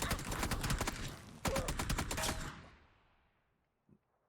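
An AK rifle in a video game rattles off two loud, rapid automatic bursts at close range, separated by a brief gap, before the echo fades out and a single faint knock follows.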